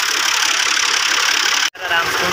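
A tractor engine idles loud and close, a steady mid-pitched rumble with a brief sharp dropout and click near the end before the running sound returns.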